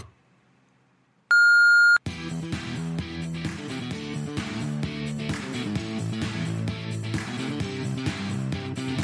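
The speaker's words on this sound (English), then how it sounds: "Please leave a message after the beep." Voicemail beep, a single clean electronic tone under a second long, followed straight away by loud music with a steady beat.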